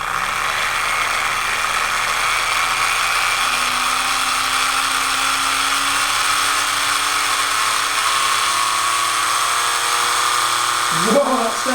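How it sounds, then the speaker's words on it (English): NSR Shark slot car motor in a Carrera Lamborghini Huracan Performante whining steadily and loudly, pitch slowly rising as it revs, ending with a brief clatter. "It's time to fire up the motor, this NSR Shark motor, for the first time, and see what she sounds like in this Lambo"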